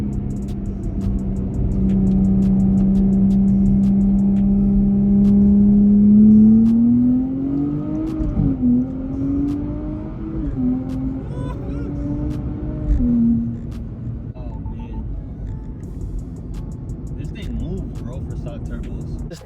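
A 2023 Nissan Z on stock turbos pulls hard. Its engine note holds, then climbs in pitch in repeated steps as it shifts through the gears. It is loud and close at first, then eases off and trails away.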